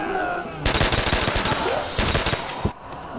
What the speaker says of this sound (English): it's an M1A1. It's not a very high caliber rifle